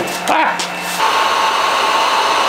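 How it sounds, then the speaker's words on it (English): A heat gun runs continuously while welding plastic for a custom water tank in a Ford Econoline van build, giving a loud, steady blowing roar after a brief voice at the start. "keep turning the heat gun off, but I want it to stay on so it can stay hot"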